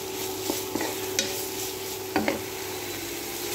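A utensil stirs shrimp with garlic and onion in a frying pan, a steady sizzle with a few light scrapes and taps against the pan, close and alone.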